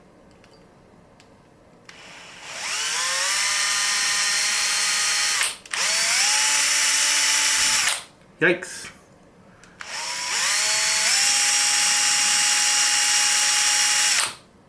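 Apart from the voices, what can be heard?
small drill bit drilling holes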